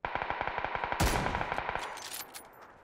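Rapid automatic gunfire from the video game PUBG rattles in an even burst, then a louder, closer shot cracks and echoes out, with a few scattered shots fading behind it.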